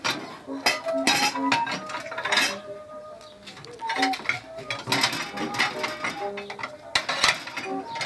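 Heavy crockery is handled near an old china cabinet inside a rammed-earth house museum, producing irregular clinks, knocks and clattering of dishes at close range.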